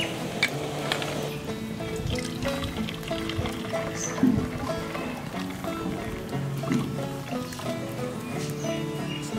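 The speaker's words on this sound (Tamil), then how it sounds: "வெல்லம் கரைஞ்சிருச்சு, இப்போ வடிகட்டிக்கலாம்." Dissolved jaggery syrup is poured through a strainer in a village kitchen, a steady close trickle and splash of liquid with small clatters of the vessel along the way.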